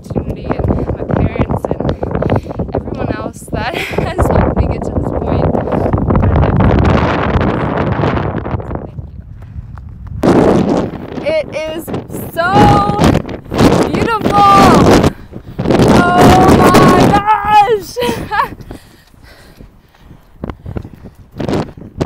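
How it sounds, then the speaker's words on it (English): Strong gusts buffet the microphone on an exposed mountain ridge along the San Gorgonio Pass to Wrightwood hiking route, a loud broadband roar for the first ten seconds, then quieter gusts under a hiker talking. "on top of this ridge right now, and the wind is trying to blow me over"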